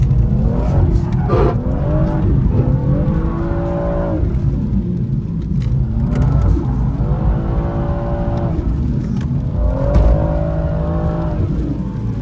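A BMW M140 engine revs and accelerates hard and loud at close range. The roar rises in repeated sweeping climbs through the gears and never lets up.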